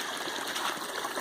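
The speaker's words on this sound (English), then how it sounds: "out of that one trench alone, that amount of water is flowing year round, always" Groundwater runs out of a dug trench for a homestead well in a steady, close trickling flow, an unbroken watery rush with no talking.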